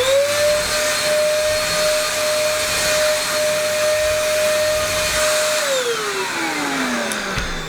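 Black & Decker DustBuster Mini handheld vacuum fitted with a stick nozzle, running with a loud steady motor whine that holds pitch, then drops as it powers down at the end.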